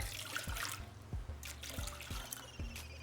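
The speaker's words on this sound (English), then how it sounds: "First thing we will add is 2 cups of water" Water is poured into a food processor for a casserole sauce, a soft trickling splash with faint rhythmic dripping plops, quiet and close, with no talking.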